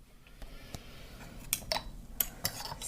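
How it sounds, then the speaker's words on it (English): Sharp, light clinks of a spoon against a cup ring out in a quiet room, a few scattered taps spaced irregularly, with faint handling sounds between them as green tea is poured and stirred. "I think it might be time to pour some green tea and see if that helps."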